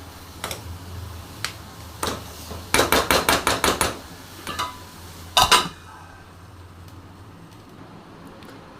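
Metal lid set down on a pan of prawn curry cooking on the stove: a run of bright, sharp clinks and taps, then a final louder clatter, heard up close with no talking.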